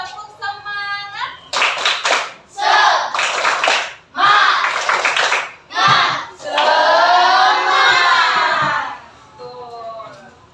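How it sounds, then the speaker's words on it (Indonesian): A primary school class follows the teacher's lead in a rhythmic classroom spirit clap: bursts of sharp group handclaps alternate with loud children's chanting and shouting, all close and energetic, ending in a long cheer. "Tepuk semangat."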